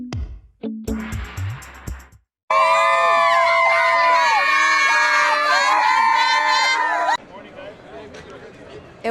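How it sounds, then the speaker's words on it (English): A sold-out opening-day crowd at Dodger Stadium in Los Angeles cheers and shouts. Scattered bursts of noise open the clip, then a loud, dense roar of voices holds for several seconds before dropping to a softer murmur. "It was a sold-out crowd at Dodger Stadium for opening day"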